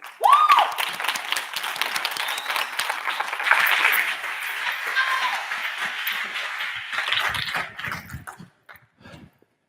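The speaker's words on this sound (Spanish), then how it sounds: "Un fuerte aplauso para Dolores." An audience at a popular-science talk on Cold War chemistry in Barcelona claps loudly at first, then the applause thins out into scattered, fading claps.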